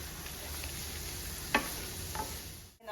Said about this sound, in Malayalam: ഇഞ്ചി നന്നായിട്ടൊന്ന് ചുമക്കൊന്നും വറുക്കണ്ട, എന്നാലും ഇഞ്ചിയിൽ ആ ഒരു വെള്ളമയം ഒന്ന് വലിഞ്ഞു കിട്ടണം.